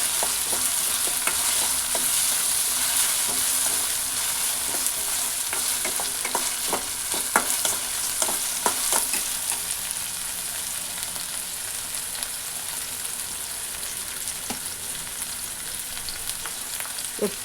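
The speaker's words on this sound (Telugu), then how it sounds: "తర్వాత టమాటో వేస్తున్నాను. టమాటాలు కూడా కొద్దిసేపు వేయించాలి." Tomatoes fry in a pan while being stirred for upma-style uggani, giving a steady, close hiss of sizzling with scattered scraping clicks from the spoon throughout.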